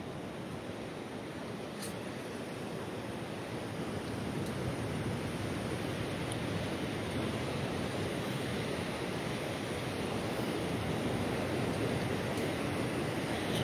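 Sea waves at San Pedro beach in Ivory Coast wash in as a soft, continuous surf wash, steady and fairly distant in the morning air.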